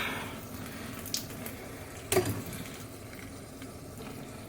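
Water pours into an airy cactus soil mix in a pot, a soft steady trickle and fizzing drain with a short splashy burst midway, close and fairly faint, no talk.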